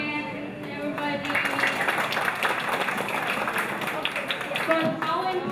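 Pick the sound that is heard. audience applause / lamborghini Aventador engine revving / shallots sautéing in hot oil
audience applause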